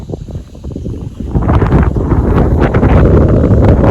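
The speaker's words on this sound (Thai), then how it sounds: "อากาศดีมากครับ ลมเย็นเย็น" Wind gusting at a seaside beach by a temple in Thailand, buffeting the microphone with a loud, rough rumble that strengthens halfway through and stays heavy to the end.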